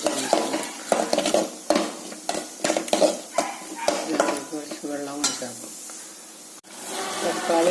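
Tomatoes fry in a pan with a steady sizzle and the stirring clatter of a spoon against the pan, mixed with talk throughout.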